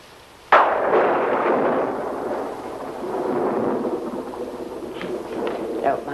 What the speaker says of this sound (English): It's the storm that's getting on my nerves.